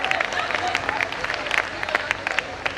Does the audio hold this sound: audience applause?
yes